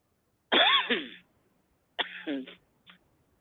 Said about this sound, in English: I usually don't cough this much.